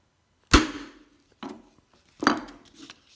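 Three sharp metallic hammer taps on a ball bearing, spaced about a second apart, each ringing briefly before fading; close and fairly loud with quiet gaps between.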